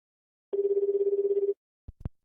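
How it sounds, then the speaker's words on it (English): A steady electronic mobile phone tone, pulsing rapidly for about a second, then stopping, followed by a couple of short soft knocks. "My phone beeping."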